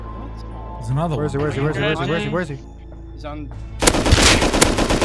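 Gunfire in the survival video game Rust, a sudden loud burst of rapid shots at the end after players talk excitedly over a low hum.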